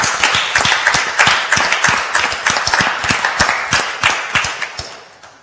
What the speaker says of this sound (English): I think you deserve a lot of applause for this.